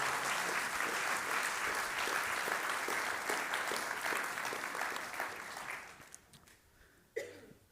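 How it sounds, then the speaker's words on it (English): A crowd gives sustained, full applause that holds steady for several seconds, then thins out and fades to scattered claps, with a cough or throat clearing near the end. "So why don't we give Jim and Abby a big round of applause?"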